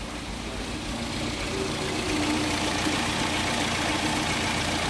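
Car engine idling roughly and not running well, a steady loud mechanical drone with uneven low knocking, close up and continuous with no talking.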